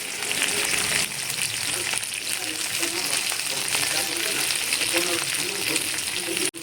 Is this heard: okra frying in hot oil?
yes